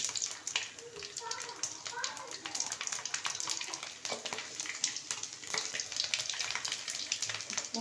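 Garlic and mustard seeds sizzle in hot oil with a bright, crackling hiss and scattered pops, fairly faint and continuous throughout, with voices murmuring in the background.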